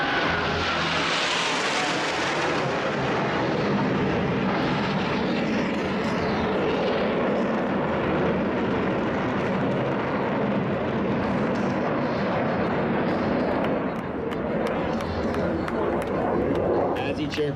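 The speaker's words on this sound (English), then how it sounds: "each pilot will perform an individual brake turn and exit the flight line in a separate direction" Blue Angels jets fly brake turns at a 2018 Fleet Week air show in San Francisco, making a loud, continuous roaring jet engine rush that swells and fades, while an announcer speaks over it.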